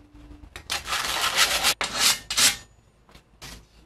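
Sandpaper rubbed by hand along the sharp cut edges of an aluminum plate, a close, dry rasping in several strokes of a second or so with brief pauses between them, and no voices.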